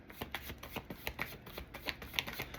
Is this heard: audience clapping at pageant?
no